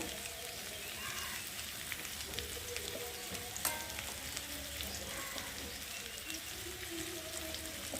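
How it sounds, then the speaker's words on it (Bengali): Spices sizzle in a pan with turmeric added for a prawn curry, a steady moderate frying hiss with occasional louder pops and stirring scrapes throughout. "মশলা ভাজা হয়ে গেছে আর এখন একটু হলুদ দেব"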